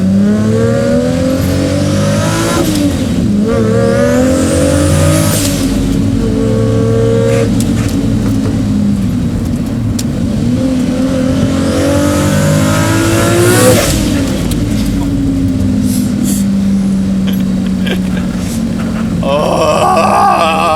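A 750-horsepower big-turbo 2JZ Toyota Supra accelerating hard on a mountain road, loud engine rising through repeated revving pulls with whining sweeps between gear changes, heard up close from inside.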